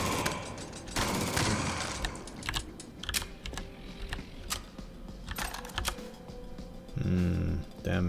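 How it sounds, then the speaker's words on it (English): Gatling gun fire in the video game Jupiter Hell comes in sharp rapid bursts and scattered shots at moderate level, broken by brief pauses, with no voices. "I guess I can Gatling gun them."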